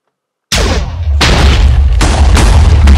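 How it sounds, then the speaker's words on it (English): Explosions in a Minecraft Bedwars match go off in a loud, sustained series of booming blasts that begin after a short silence and overlap continuously without pause. "Explosions!"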